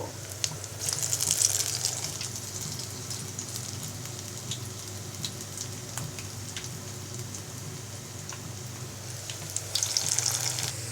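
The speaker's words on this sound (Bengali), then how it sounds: "লাল শাকের বড়া একটা একটা করে ভেজে নিব" Red amaranth leaf fritters fry in hot oil one at a time, a continuous close sizzle that swells louder as each new fritter goes in, with no talking.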